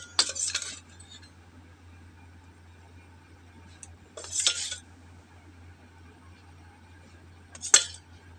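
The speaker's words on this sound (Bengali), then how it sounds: "দিয়ে এবার ভালো করে মাখিয়ে নেব।" Guava being mixed with chili powder, salt and kasundi in a bowl: three separate, faint clinks of a utensil against the bowl, with quiet stretches between them.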